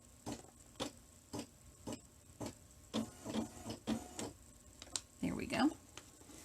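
An embroidery machine runs a few backing stitches to lock in a new thread while stitching a diagonal zipper bag, giving soft, regular mechanical ticks and thumps at a steady pace, with a brief busier burst near the end and no talk.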